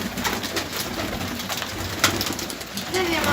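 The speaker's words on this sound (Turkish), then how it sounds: "Bunlar dönüş kuşları herhalde." Homing pigeons coo softly amid a busy, noisy outdoor background, the low calls repeating faintly under steady hiss.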